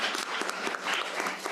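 Audience at an event on reproductive freedom and state laws claps briefly, a moderate patter of many hands with a few sharper individual claps standing out.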